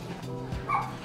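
A small dog gives a single short yip or bark, close and fairly loud, over a steady low background hum during a trip in Taiwan.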